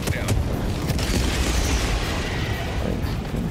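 Grenade explosions in the video game Helldivers 2 make a dense, continuous rumble of booms and bursts, loud and close, with no clear gaps between blasts.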